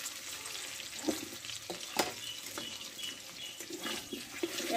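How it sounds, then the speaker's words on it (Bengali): Potatoes fry in hot oil with a soft, even sizzle, broken by a few light spatula knocks and stirring scrapes, close but fairly quiet, no voices. "এই তেলে এবার আলুটাকে আমি কষে নেব।"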